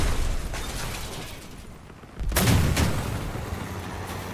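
Cannon and gun fire in the Crossout vehicle combat game, a steady rumbling battle din with a louder burst of heavy booming shots in the middle before settling back to a continuous churning roar.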